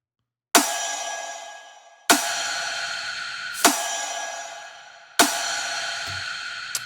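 Four sharp, bright clap-snare hits from a dance track ring out alone at an even, slow spacing, each with a crisp attack and a long decaying tail.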